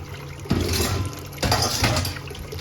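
Wet gold-bearing material is dumped with water into a Gold Box gold extractor, giving two loud rushing splashes of pouring slurry over a constant flow of water.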